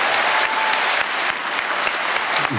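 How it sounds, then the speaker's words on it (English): Dense, loud applause fills an awards ceremony hall as a chef's team is acknowledged at the James Beard Restaurant and Chef Awards, steady sustained clapping from a large crowd with no talk over it. "they get a round of applause"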